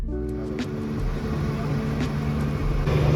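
Steady engine drone and road rumble from inside a CNG car on the road toward Raigad, a continuous mid-low hum with faint higher whirs and a few brief knocks.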